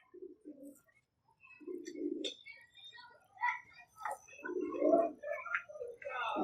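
A captured pigeon coos in low, soft throaty bursts close by, broken by brief rustling and small chirps, while someone talks over part of it.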